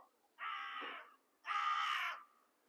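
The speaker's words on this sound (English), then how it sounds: "Shut up, crow." A crow caws twice outdoors, two loud, harsh, drawn-out calls with a short pause between them, near and clear against a quiet background.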